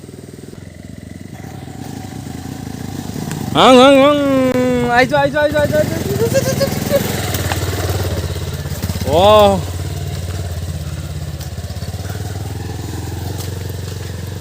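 A motorcycle straining up a steep hill on a Nagaland rubber-plantation road, its engine labouring under the rider's voice, with two sharp rising whines of revving.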